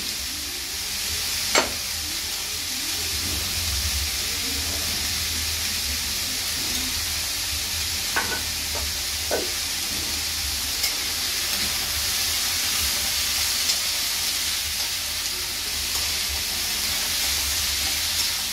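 Chopped onion and turmeric sizzle steadily in a hot pan, a continuous hissing fry broken by a few small pops and light clinks, with no talking.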